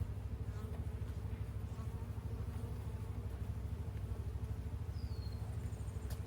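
Honeybees buzz steadily over an open beehive during an inspection for varroa mites, a continuous close hum with individual bees flitting past, fairly quiet and without talk.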